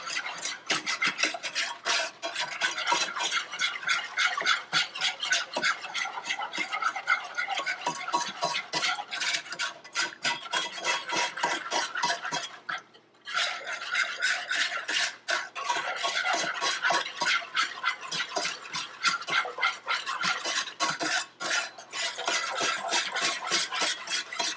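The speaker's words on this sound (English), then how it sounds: "Notice I never stop stirring it." Gravy stirred nonstop in a pan for smothered pork chops, a close, rapid, rhythmic scraping of a utensil against the pan bottom with a brief pause midway.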